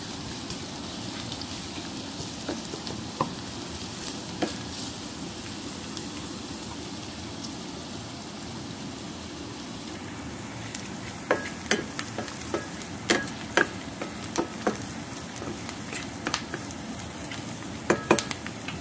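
Onion, garlic and ginger sauté in a hot pan with a steady, close sizzle and frying crackle throughout, plus a few sharper ticks and pops from stirring toward the end; no talking.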